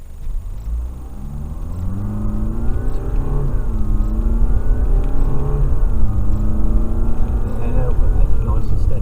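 A car accelerates hard at full power during a driving lesson, its engine rumble rising and building steadily for several seconds, close and loud, with speech over it.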